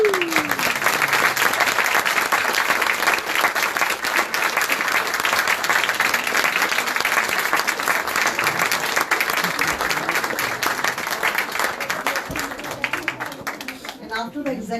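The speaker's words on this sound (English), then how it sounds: "Please give a big hand for Dr. Salim." A closing-ceremony audience gives sustained applause for an executive secretary, dense clapping that holds steady for several seconds and thins out toward the end.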